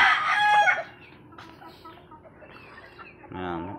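A large backyard rooster crows loudly at the start, followed by quieter clucks and scattered faint sounds, then a short burst of calling near the end.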